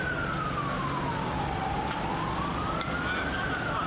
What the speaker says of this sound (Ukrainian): розбудили звуки сирен спецавтівок